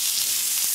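Peppercorn-crusted steak for steak au poivre searing in clarified butter in a hot pan, a steady close hiss of sizzling fat with no pauses throughout.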